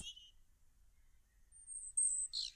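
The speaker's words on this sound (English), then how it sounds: "The bird on my head are in love. They are lovebirds." Lovebirds building a nest on a person's head give a few brief, high, thin chirps, faint at first and clearer toward the end over a near-silent background.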